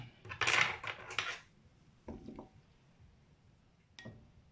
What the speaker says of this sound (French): Vous allez les couper comme ça en petits morceaux pour pouvoir le faire fondre assez rapidement.